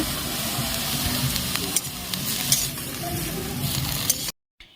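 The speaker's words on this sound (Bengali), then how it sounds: "এবার মধ্যে এর মধ্যেই আমি কাঁচা লঙ্কাগুলো দিয়ে দেব" Green chilies hit a hot oiled pan during cooking of gourd leaves, giving a steady, close frying sizzle with stirring scrapes and clinks. It runs without talk and cuts off abruptly near the end.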